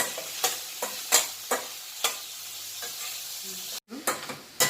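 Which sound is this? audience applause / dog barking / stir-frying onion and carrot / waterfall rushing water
stir-frying onion and carrot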